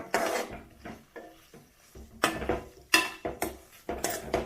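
A spoon clinks and scrapes against a cooking pot as garlic paste and masala are mixed for a nati-style kushka, giving irregular close knocks and rasps.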